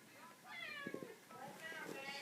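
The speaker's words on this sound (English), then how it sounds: "Sorry, that is my cat, Zach, who keeps on meowing" A pet cat lets out a couple of soft, drawn-out meows nearby, partly under a person's quiet talking in an indoor room.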